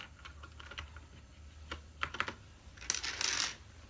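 Typing on a Ganss GS 87 mechanical keyboard with brown switches, close-up: scattered individual key clicks followed by a quick, dense burst of keystrokes near the end, with no talking.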